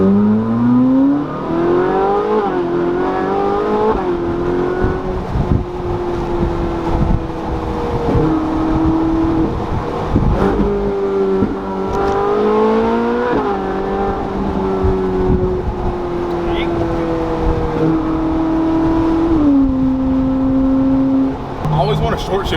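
A Ferrari 458 Spider engine revs and pulls hard while driving, its rising wail climbing through several gears with short-shift dips, loud and steady under someone talking in the cabin.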